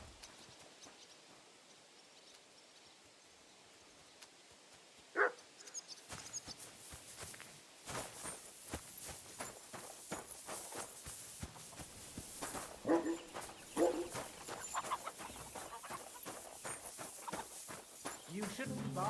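Dog barking in the medieval video game Kingdom Come Deliverance 2, a few short barks among hoof clip-clops and footsteps, starting quietly, then growing busier, with voices speaking throughout.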